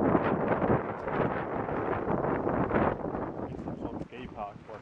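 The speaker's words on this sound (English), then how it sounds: "it's kind of windy, but I believe you guys can hear us" Steady wind buffets the microphone in a park in a low, rumbling roar throughout, with people talking underneath it.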